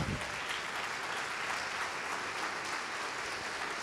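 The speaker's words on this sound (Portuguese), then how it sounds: "Vamos aplaudir ao nome do Senhor." A standing church congregation applauds in praise, a steady wash of many hands clapping that sounds somewhat distant and soft, with no voices over it.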